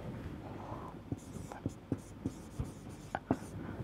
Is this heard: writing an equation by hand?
yes